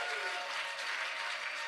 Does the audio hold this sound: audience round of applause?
yes